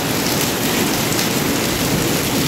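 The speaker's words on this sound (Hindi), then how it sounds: "कसूती तगड़ी बारिश आ रही है और काला हो रहा है" Heavy rain pours down in a steady, dense roar, hissing without pause throughout.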